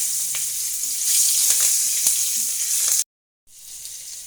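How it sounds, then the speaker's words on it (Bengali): Bay leaves with dried and green chilies dropped into hot oil give a loud, close, continuous sizzle with faint crackles, cut by a brief silence before the frying hiss resumes. "এবার এই তেলের ভিতর দিয়ে দেবো তেজপাতা, শুকনো মরিচ, কাঁচা মরিচ"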